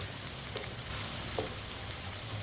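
Potatoes and okra (bhindi) frying together in a pan give a faint, steady low sizzle with a few soft stirring scrapes, no voices.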